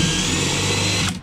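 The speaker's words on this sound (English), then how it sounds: "Drill a hole right here." A power drill whirs steadily for about a second, loud and close, then cuts off.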